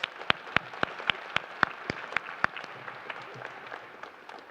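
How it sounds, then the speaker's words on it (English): Moderate applause at a county spelling bee after a speller's turn: scattered, distinct hand claps over a softer crowd patter that thins out over several seconds. "Let's give her a nice round of applause"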